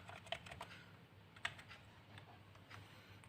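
Typing on the keyboard of an Asus X453M laptop: a few sharp key clicks over a steady low hum, close and quiet, with no voices.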